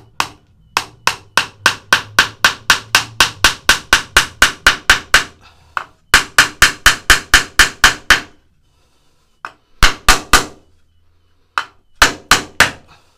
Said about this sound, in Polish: Tak biją gwoździe.